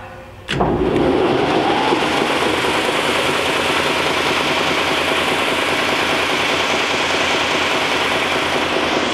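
A Timesaver belt grinder with a 50-inch-wide belt and a dual-stage 15/30 horsepower motor starts up with a sharp jolt, then settles into a loud, steady, broadband industrial roar and whine that runs on, close by.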